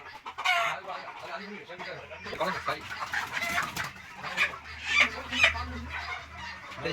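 Chickens clucking and squawking as they are caught at a poultry farm, a noisy, busy scene with fowl calls overlapping and bursting louder at moments, some voices mixed in.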